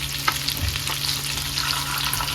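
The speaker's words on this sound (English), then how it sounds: "I'm going to cook me some onions" Onions frying in oil left over from searing meatballs, a steady close crackling sizzle with faint stirring scrapes throughout and no talking.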